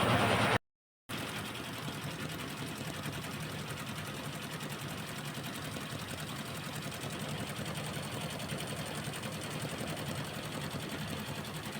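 A sewing machine runs steadily through embroidery work on a sari, a dense continuous mechanical whir that carries on almost without break after a brief silent gap near the start.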